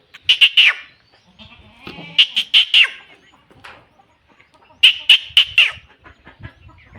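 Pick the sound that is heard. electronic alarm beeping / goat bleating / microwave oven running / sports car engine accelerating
goat bleating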